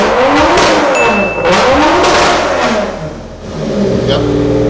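A loud car engine revs continuously, its deep, rising and falling harmonic drone swelling and dipping in pitch over several seconds, close and steady with brief tire-like squeals, while a person talks faintly underneath.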